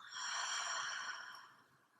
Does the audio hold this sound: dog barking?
no